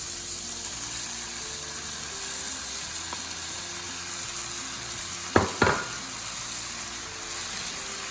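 Mushrooms tumble into pork already frying in a pan: a steady hiss of sizzling underneath, then two sharp clattering drops as the mushrooms go in, the frying carrying on afterwards.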